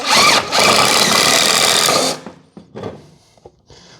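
Power drill driving screws into scrap wood: a loud, continuous motor whine for about two seconds, then it stops, followed by a few faint clunks and handling knocks.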